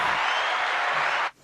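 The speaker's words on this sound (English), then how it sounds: "there's a lot of applause for you, Eva" A crowd claps for an art student during an interview, a steady, full burst of many hands heard close, then cutting off abruptly near the end.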